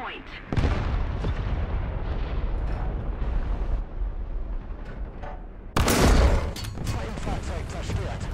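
Booming tank cannon fire and explosions from low-tier battles in War Thunder, a dense rumbling bed with a sharp loud blast near the end, under intermittent player talk.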